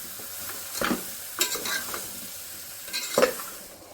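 Mushrooms sauté in a pan for biryani, soft sizzling broken by a few scraping stirs, close and moderately quiet.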